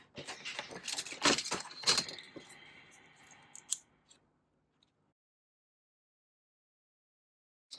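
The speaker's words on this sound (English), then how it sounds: "we're going to cut off all the excess bits that are here." Scissors snip through excess paper on handmade mini stamp booklets in several quick, close cuts, then a few faint taps before near silence.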